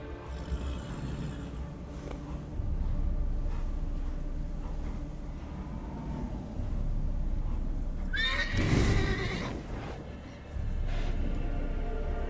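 A horse-shaped umbra spirit in The Witcher 3 lets out a loud, ringing whinny midway through, set against a steady bed of game ambience and music, with no speech.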